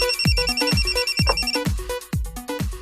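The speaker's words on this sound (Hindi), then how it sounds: "अपन का फोन बस लग गया" Loud, rapid electronic ringing tone of a phone call connecting to a radio phone-in, repeating in quick bursts, alone, with no voices.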